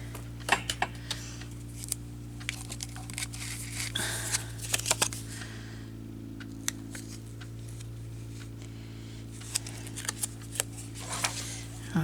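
A few sharp snips of scissors cutting, clustered in short bursts against a steady low hum in a quiet room.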